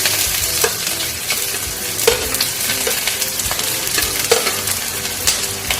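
Onions fry in oil in a cast iron vessel with a constant bright sizzle. Periodic clacks and scrapes from stirring recur roughly every second or two, close and clear, with no voices.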